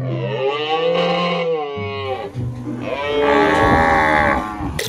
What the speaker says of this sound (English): Wow, guys, battery operated cow.